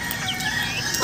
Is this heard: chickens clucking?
yes